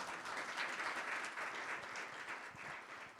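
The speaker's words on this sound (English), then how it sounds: "Please join me in thanking our panelists with a round of applause." A roomful of people applauds panelists at the close of a lunch-and-learn session, a steady wash of clapping that holds at moderate volume with no voices over it.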